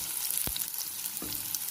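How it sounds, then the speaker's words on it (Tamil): Garlic and curry leaves sauté in a pan for crab curry, a close steady sizzle broken by two soft knocks of a spoon stirring, with no talking. "கருவேப்பிலை போட்டு வதக்கணும்."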